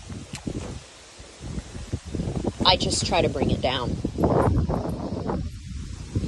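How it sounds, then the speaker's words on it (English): Gusty wind buffets the microphone outdoors, roaring low and steady while a person talks over it. "sorry about the wind"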